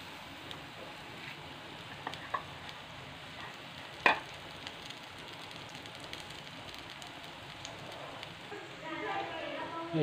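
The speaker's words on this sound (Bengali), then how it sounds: "এই যে দেখো, বড়া ভাজা হচ্ছে আজকে" Onion-stalk fritters fry in a pan with a soft, continuous sizzle and a few faint clicks and pops, quiet and close, with a voice heard briefly.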